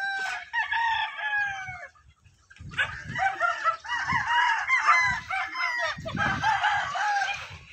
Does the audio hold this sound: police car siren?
no